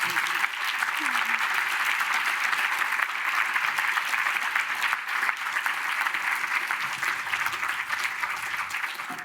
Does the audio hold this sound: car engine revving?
no